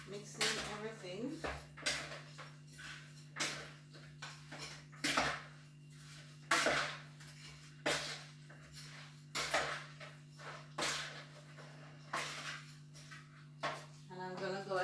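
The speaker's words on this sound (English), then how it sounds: "So I'm gonna mix in everything." Jamaican curry chicken ingredients are mixed by hand in a bowl, producing irregular close clinks, scrapes and squelches against a steady kitchen hum, with brief talk in between.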